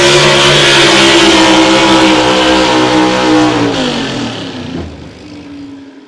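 A Pro Stock 4x4 pulling truck at the Missouri State Fair, its motor damaged in an earlier event, revs loudly with a harsh, rich roar that holds steady, then bogs down and fades as it drops off.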